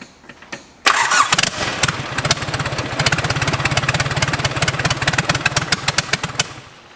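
A compound-turbo Isuzu 4JB1 diesel engine in a Holden Rodeo cranks briefly on first startup, then fires and settles into a rapid, rough idle, its loud rhythmic chugging continuing steadily until it cuts off.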